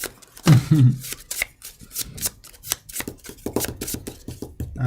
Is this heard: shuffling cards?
yes